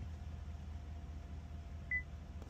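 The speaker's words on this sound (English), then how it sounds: "hold the check mark. It's gonna beep." A single short electronic beep from a car dashboard during an oil life reset, heard near the end over a faint, steady low rumble.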